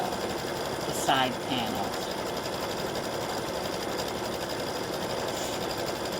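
An embroidery machine stitches a decorative background pattern onto a small in-the-hoop coaster in a 4x4 hoop, a steady continuous mechanical whir running throughout with a brief voice speaking over it early on.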